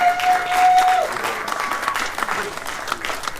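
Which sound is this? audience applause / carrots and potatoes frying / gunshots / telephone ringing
audience applause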